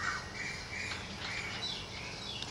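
Birds squawk and call outdoors in Thailand, a busy chorus of repeated harsh cries at moderate distance over steady ambient noise, with no talking.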